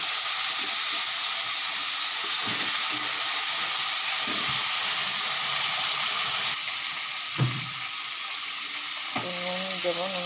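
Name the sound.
potatoes frying in hot oil with spices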